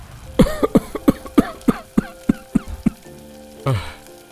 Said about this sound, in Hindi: अरे मुझे भी बहुत खांसी आ रही है